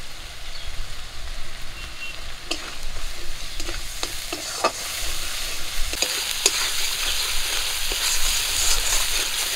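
A spice paste of turmeric, salt and chilli powder fries in a pan with a close, continuous sizzle, broken by light scraping stirs and occasional clicks, with no voices.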